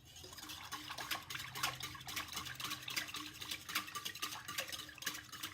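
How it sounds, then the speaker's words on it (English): A whisk stirs hot process soap batter in a pot at about 174 °F, making a steady, wet, close swishing and slapping that goes on without a break. "We'll just keep whisking."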